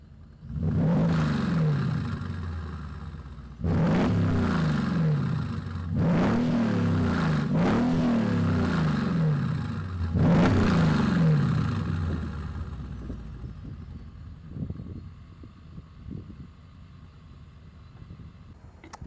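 Mercedes GL450 with a muffler delete, its engine revved hard four times in quick bursts, each roar climbing and falling, then settling to a low idle rumble, close and loud with no talking.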